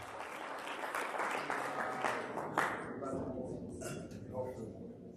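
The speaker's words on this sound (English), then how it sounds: "give him a round of applause" Steady crowd applause fills the room at an anniversary gala dinner auction, with voices talking over the clapping throughout, thinning slightly toward the end.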